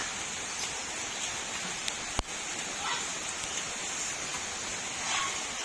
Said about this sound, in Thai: ตอนนี้ ฝนยังไม่หยุดเลยค่ะ